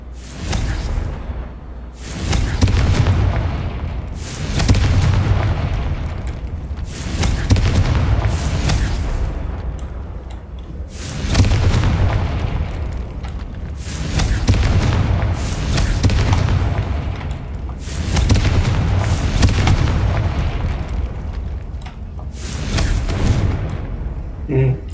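Repeated Confringo blasting spell explosions from Hogwarts Legacy, a video game: heavy booming blasts recur roughly every four to five seconds, loud and close with rumbling tails, and a voice speaks faintly in the background.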